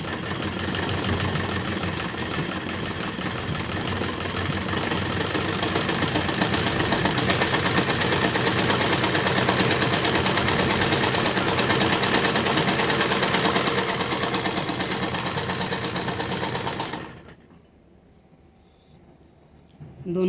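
A sewing machine stitches the hem of a salwar in one long, steady, fast run of rapid needle strokes, close and loud, before stopping abruptly and leaving near silence.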